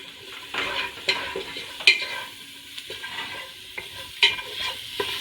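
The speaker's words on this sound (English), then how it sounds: "I'm just going to add all that to the pan right now and just caramelize that with our onions" Onions and smoky paprika spices sizzle in a pan for a vegan chili while a spoon stirs, with repeated scrapes and clacks over a steady close frying hiss.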